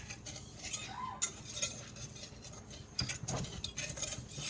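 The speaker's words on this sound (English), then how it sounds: "Whisk it together and try not to do it too vigorously at the beginning." A quiet whisk scrapes and taps through a cornstarch mixture for s'mores pie filling in a bowl, giving soft irregular clicks at a gentle pace, close by and with no speech.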